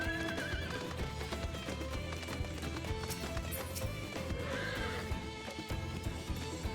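A video game horse mount in Final Fantasy XIV Dawntrail gives rhythmic clip-clop hoofbeats and a whinny, set over game music at moderate, steady loudness.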